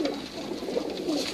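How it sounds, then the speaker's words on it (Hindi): A teddy pigeon on a rooftop coos in low, soft, rolling murmurs, close and continuous, with no talk over it. "ये जीरो टैडी कबूतर है"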